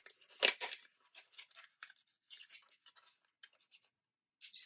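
Die-cut paper bear pressed out of a metal die: a crisp snap of paper first, then a string of soft scratchy pops and rustles, close and quiet with short gaps between.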